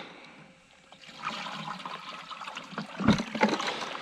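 Water poured into a container holding freshly caught yabbies, a steady trickling splash that swells and splashes more heavily toward the end, with no voices.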